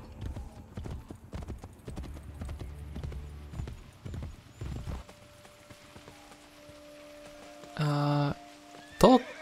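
Horse hooves in the game Assassin's Creed Brotherhood, a rapid clip-clop of trotting that runs for about five seconds, then stops, followed by quieter game sounds and a few sharp tonal effects.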